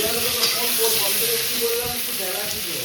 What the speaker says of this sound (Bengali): তার জন্য আমি পটলগুলোকে আগে ভাজছি